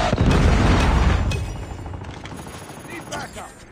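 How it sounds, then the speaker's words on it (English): Predator missile strike in Call of Duty Mobile, a heavy booming blast up close that rumbles and fades over a few seconds. Scattered gunshots sound in the tail. "Friendly predator missile inbound."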